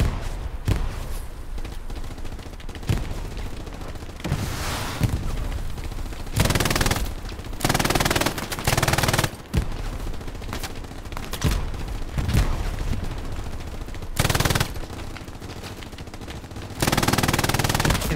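An MG42 machine gun fires on Omaha in a combat game, loud bursts of rapid automatic fire that start and stop repeatedly, with short pauses between long chattering strings and occasional heavy thuds.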